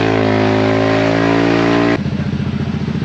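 A remapped car engine fitted with an Etech Power Pipe 3.0 exhaust revs loudly and steadily up close, then drops abruptly to a lower, pulsing idle burble.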